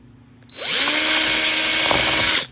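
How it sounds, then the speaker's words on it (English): A power drill whirs up loudly and runs at a steady high-pitched whine for about two seconds before stopping abruptly, drilling through a Jeep Wrangler Rubicon grille insert. "Drill right through."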